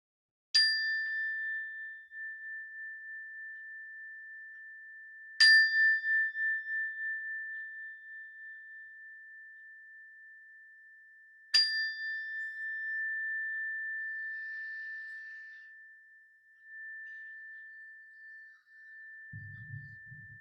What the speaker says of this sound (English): when you hear the sound of the bell, try and listen to the sound until you can't hear it any longer